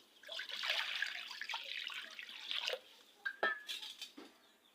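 Water is poured over pieces of elephant foot yam in a metal pot for cooking, a close splashing rush with clinks of cookware, ending in a few brief trickles and knocks.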